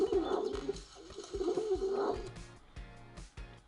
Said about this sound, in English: Here I've added the sound of pigeons actually.